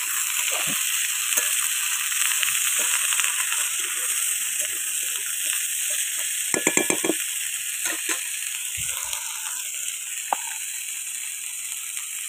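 Bottle gourd stalks, potato and eggplant stir-fry in hot oil with a steady sizzle, under a few brief metallic scrapes and knocks of stirring.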